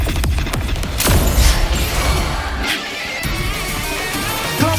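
Cluster cannon firing in Wuthering Waves: loud crashing blasts and booming impacts with a sharp burst near the start, then a rumbling, layered barrage that carries on steadily with no speech.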